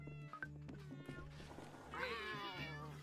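Cats meow in the cafe management game Cat Cafe Manager, with several drawn-out, wavering meows rising over a steady electronic music loop, loudest toward the end.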